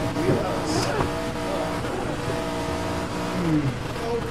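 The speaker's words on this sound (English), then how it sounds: "you can hear the gearbox just ripping itself apart" A race car in the Project CARS video game howls at high revs with a grinding, straining gearbox, its engine note rising and falling steadily, with a player talking over it.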